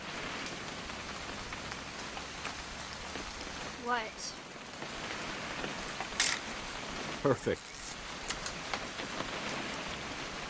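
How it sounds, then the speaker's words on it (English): Steady rain falls throughout a hunting-trip scene in the video game What Remains of Edith Finch, a constant hiss with a few brief clicks and knocks, while voices speak briefly over it. "It's gonna rain the whole..."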